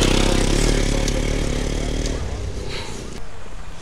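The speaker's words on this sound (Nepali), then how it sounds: "ल हेर यता बाइक आयो अब उडाउँछ धुलो" A motorcycle rides along a dusty village hill road through forest, its engine loud and close at first, then easing off and fading as it moves on, with brief rattles near the end.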